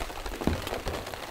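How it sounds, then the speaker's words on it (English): Rain falling on an ultralight tent during a heavy rainstorm, a soft fizzing patter with a few irregular drops tapping the fabric, fairly close and steady, no talking. "and listen to the rain."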